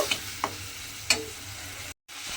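A spice masala, loosened with a little water, fries in a pan. It gives a soft, continuous sizzle close by, with a few sharp stirring clicks from the spoon and a short silent gap near the end.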